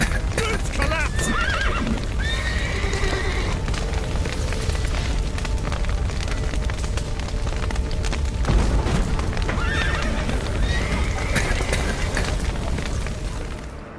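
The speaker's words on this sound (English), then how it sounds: "The horses!" Horses whinny and neigh repeatedly amid clattering hooves, crackling fire and rumbling booms, with shouting voices mixed into the chaotic scene, in The Witcher 3: Wild Hunt video game.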